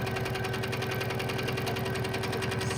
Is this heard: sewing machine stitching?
yes